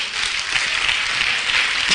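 A church congregation applauds during a sermon about Halloween, a brief, dense hiss of many hands clapping together at steady loudness, no voices over it.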